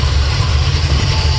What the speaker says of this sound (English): Okay, so I got it up and running now